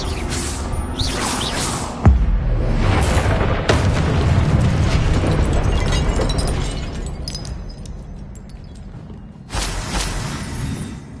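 A Confringo fire spell bursts in Hogwarts Legacy on PS5: a sharp booming blast, then a rumbling whooshing tail that fades over several seconds, with a second loud impact near the end.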